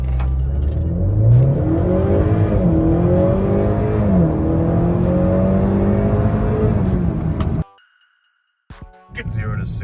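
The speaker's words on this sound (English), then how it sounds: "I'm gonna also do a 0 to 60 with the brake boost." A 2020 Honda Accord 2.0T with a KTuner V2 tune launches from a brake boost and accelerates hard to 60 mph, the engine note climbing and dropping loudly through gear changes inside the cabin before cutting to near silence.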